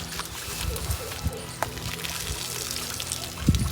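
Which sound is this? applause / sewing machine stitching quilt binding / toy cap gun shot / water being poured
water being poured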